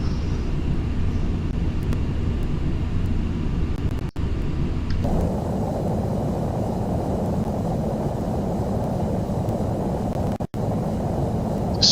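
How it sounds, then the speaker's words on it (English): A simulated airliner on final approach in Flight Simulator X gives a steady, loud engine roar and wind rush that shifts to a brighter, fuller drone partway through, continuous and close. "Coming in on final of runway 5L."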